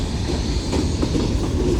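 BNSF manifest freight train made up of -9 locomotives rolling past Central Avenue, a steady close rumble with rhythmic clickety-clack of wagon wheels over the rails, heard alone without talk.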